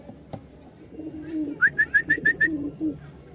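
A pouter pigeon coos close by in a quick run of about six soft, rising hoots, over low rumbling murmurs from other birds in a pen.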